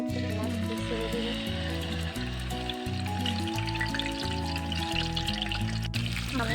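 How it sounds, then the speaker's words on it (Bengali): Hilsa fish slid into hot oil, with a steady crackling sizzle of frying that runs throughout alongside a tonal background hum. "তেলটা গরম হয়ে গেছে, এখন আমি একে করে মাছটি ছেড়ে দেব।"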